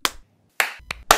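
People clap in short bursts, a few distinct, close, crisp claps separated by brief pauses.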